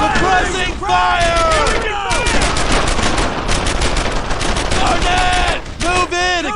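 Heavy World War II-era gunfire in the video game Brothers in Arms: Earned in Blood, loud repeated bursts and shots mixed with soldiers shouting over the battle.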